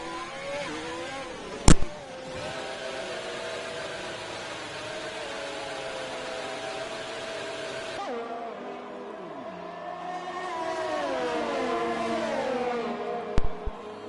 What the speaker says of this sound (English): the 2 Racing Points running 3rd with Snookster and 6th with Jack Prentice